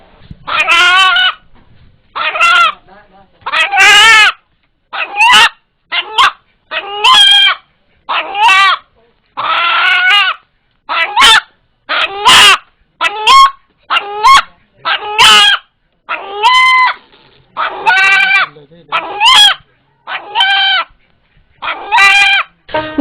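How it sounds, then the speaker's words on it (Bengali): A domestic rooster with an unusual call crows over and over, loud and close. Its short, strained cries come in a steady series with brief silent gaps between them. "একটি মোরগের ডাক"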